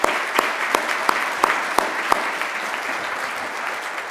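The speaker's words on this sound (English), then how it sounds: "will you give me a round of applause for them?" An indoor audience at a Roy Chapman Andrews Society Distinguished Explorer event applauds the sponsors, giving a steady bed of clapping with a few sharp, close claps standing out at a regular beat before it levels off.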